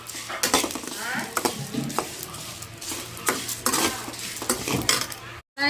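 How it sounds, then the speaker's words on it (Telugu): Food fries lightly in a pan on a gas stove, with a steady sizzle under repeated clinks and scrapes of a metal utensil stirring close by. "అయితే లైట్గా ఫ్రై చేద్దాం"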